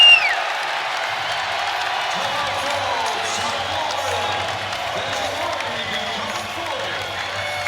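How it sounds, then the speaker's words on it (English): A college basketball arena crowd roars during a timeout in a South Florida vs. College of Charleston game, a loud, sustained wash of cheering and whooping that fills the space, with a commentator's voice over it. "Listen to this crowd"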